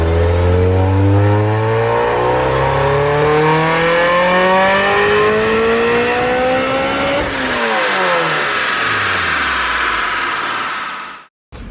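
A supercharged Honda S2000 engine screams through a full-throttle dyno pull, pitch climbing steadily and loudly for about seven seconds, then dropping off as the revs fall and the engine winds down before cutting out.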